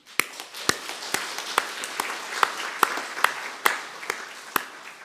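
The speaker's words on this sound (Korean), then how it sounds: "제가 존경의 박수와 축하를 드리겠습니다" A church congregation at a retirement and ordination service claps in congratulation, a sparse crowd applause with distinct sharp individual claps standing out over a softer patter, steady and fairly close.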